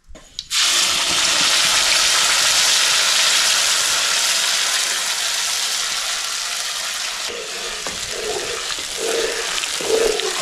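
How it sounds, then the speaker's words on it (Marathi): Prawns frying in gravy and oil for a quick kolambi thali cooked over a wood-fired chulha, a loud steady sizzle that holds from start to finish with no talk. "2-3 मिनिटं फक्त ग्रेव्हीमध्ये असं फ्राय करून घ्यायचं तेलामध्ये"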